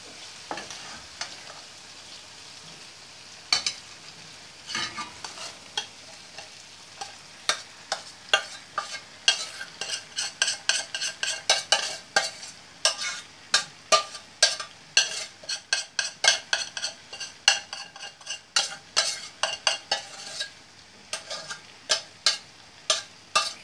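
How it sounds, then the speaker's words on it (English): Bechamel sauce being stirred into mushrooms in a frying pan for Russian mushroom julienne, with steady sizzling and a rising run of sharp spoon scrapes and taps against the pan, close and fairly loud, no talk. "Then we pour this bechamel sauce to our mushroom."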